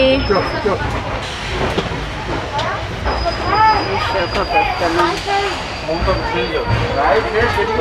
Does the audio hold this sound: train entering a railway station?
yes